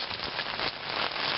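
Steady rain pours down outdoors, a dense, even hiss of drops on surfaces, close and continuous with no voices.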